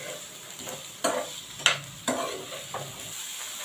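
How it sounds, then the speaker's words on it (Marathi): Sliced onions sautéing in hot oil in a pan for dhaba-style matar paneer: a steady, close sizzle with a few soft scrapes and stirring knocks spaced through it. "आता इथे आपण कांदा परतत आहोत"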